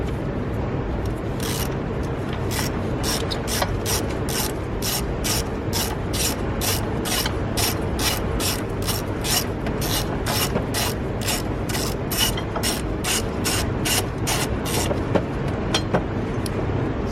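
Rapid, evenly spaced ratchet clicks sound up close without a break as a size 12 bolt on a Kia Sedona battery hold-down bracket is loosened, over a low steady background hum.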